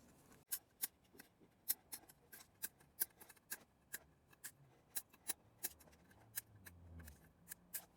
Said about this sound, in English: Now I'm just going to trim the tips.